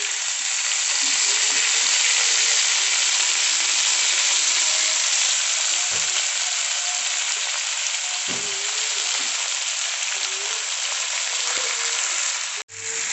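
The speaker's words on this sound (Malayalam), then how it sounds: "കുറച്ചൊരു വെളിച്ചെണ്ണ ഒഴിച്ചു കൊടുക്കും" Onions fry in coconut oil in a pan, giving a loud, dense, continuous sizzle that runs steadily throughout with a few faint stirring scrapes and one brief knock near the end.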